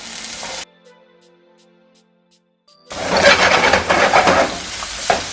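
Onions sizzle loudly in hot oil in a frying pan, a dense bright crackle that starts abruptly after a quiet gap and continues steadily to the end.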